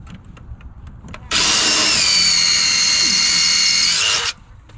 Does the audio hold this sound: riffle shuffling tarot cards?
no